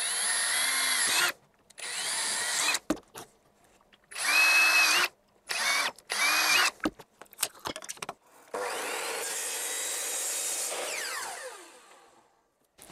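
A handheld power drill bores freehand, without a drill stand, while a raised enclosure for an Ikier E2 laser engraver is being built: several loud whining bursts with short pauses, then one longer steady run that fades out.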